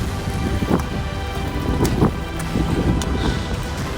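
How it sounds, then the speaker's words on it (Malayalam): Wind gusts on a winter trek to Kheerganga in Himachal's Himalayas, with loud rumbling buffeting and blustery noise close to the microphone throughout. "കുത്തനെയുള്ള കാറ്റ് കേട്ടോ"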